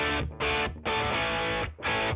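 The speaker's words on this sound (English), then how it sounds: "that's on the most amount of distortion that I can get, or gain that I can get out of this pedal with my humbucker" An electric guitar with a humbucker pickup runs through an AC Booster drive pedal with the gain fully up, producing thick, saturated distorted chords in three sustained bursts separated by brief gaps, loud and alone.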